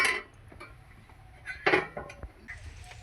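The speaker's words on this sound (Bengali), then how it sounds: "এখন ঢাকাটাকে তুলে নেব" A cooking pot lid is lifted off a simmering soybean curry, giving a short metallic clink and rattle midway through an otherwise quiet stretch, with a faint knock near the start.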